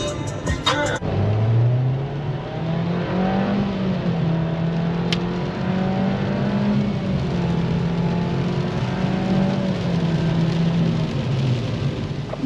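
A car driving on a wet road on a Québec road trip, a steady engine hum with a slowly shifting pitch and road hiss, continuous and close from inside the vehicle, no talking.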